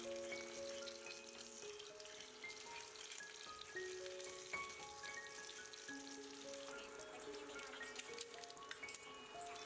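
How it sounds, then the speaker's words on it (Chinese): Eggs sizzle and crackle steadily in hot oil in a pan, a soft continuous frying hiss with faint scattered pops. "开小火慢煎"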